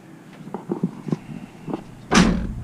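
A door or panel on a Honda Type R shuts with one solid thud near the end, after a few quieter knocks and handling sounds, close by.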